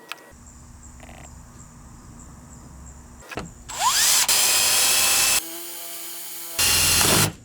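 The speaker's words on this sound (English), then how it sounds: "the only thing left is to drill a hole right in the middle" A power drill bores a hole for a radiator hose clamp on a Hummer H3 during a body lift install. Two loud, close whirring bursts of drilling come after quieter shop background noise.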